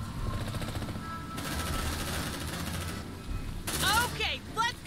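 Automatic weapon fire from a squad battling aliens in the sci-fi tactics game Aliens: Dark Descent, sustained bursts layered with game effects and shrieks, under a loud busy mix.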